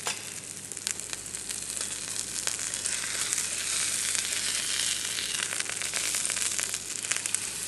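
A beef rib eye steak fries in a pan with a steady, close, crackling sizzle that holds throughout, with scattered sharper pops over the hiss.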